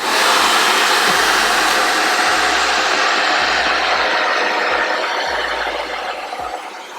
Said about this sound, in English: when I use the hairdryer, the box actually changes color due to the heat